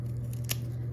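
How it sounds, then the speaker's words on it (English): A single crisp snip cuts a dahlia tuber clump in half with garden pruners. It is close and brief, over a steady low hum. "I would not worry about it and just cut them in half, cut them in thirds"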